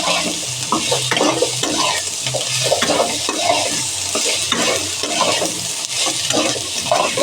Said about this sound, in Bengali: তাতে আবার সামান্য জল দিয়ে একদম সামান্য জল দিয়ে আর একটুখানি কষিয়ে নেব।